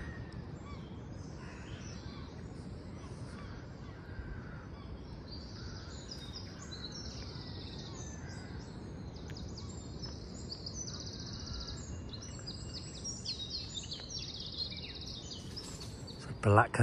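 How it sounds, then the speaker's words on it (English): A male blackbird sings in spring along St Lawrence Undercliff Drive on the Isle of Wight, its fluting phrases coming at a moderate distance among other calling birds over a steady outdoor background hum. "Some male blackbird."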